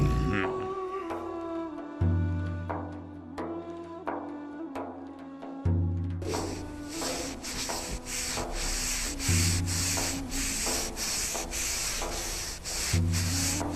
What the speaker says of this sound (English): the Roman ones were polishing and shining the walls.